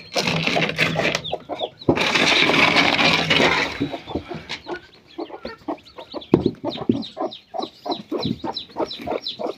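A hen clucks close by among newly hatched chicks, with a burst of loud flapping or scuffling early on, then repeated short clucks and faint peeping.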